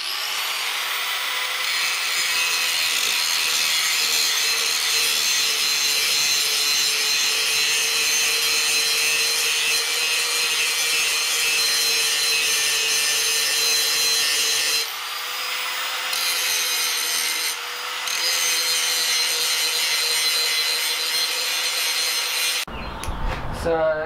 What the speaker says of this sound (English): Grind some of the scale off and see how bad the fish lipping is.